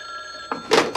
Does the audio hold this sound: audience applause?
no